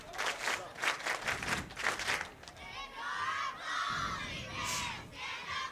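High school football crowd at a Loyal versus Colby game, cheer squad chanting in rhythmic shouted bursts with crowd yelling and clapping, then a looser roar of voices from the stands, moderately distant.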